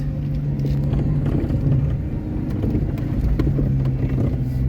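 A small car rumbles steadily along a rough, rally-like forest road after a mushroom-picking trip, with a continuous low engine drone and bumps from the uneven surface, loud and close throughout.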